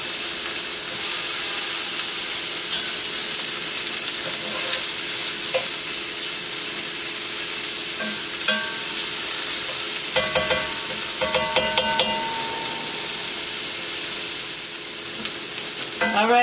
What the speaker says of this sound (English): So now this is going to saute for like 2 minutes.